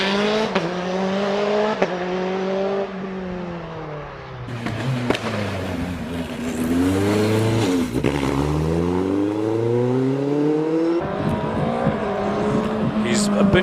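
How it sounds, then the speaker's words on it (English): A Formula Renault race car with a 2-litre Renault engine screams past at a hillclimb, its loud revving engine rising and falling through gear changes as it sweeps by, with a voice talking over it. "Quick car though, 76 through the bridge for the Formula Renault car"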